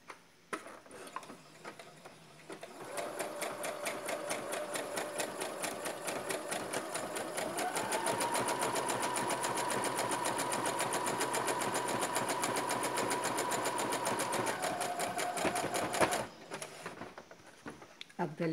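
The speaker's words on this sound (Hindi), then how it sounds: "मैं ये ऑटोमेटिक मशीन है इसलिए जिगजैग वाली लगा रही हूँ" An automatic sewing machine runs a zigzag stitch along a frock. It whirs steadily and close for about thirteen seconds, with a fast, even ticking running through the hum.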